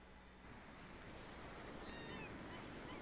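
Sea waves in the video game Voices From The Sea wash steadily as a soft, continuous surf, rising slightly and staying distant and hushed, with a faint high tonal chirp near the end.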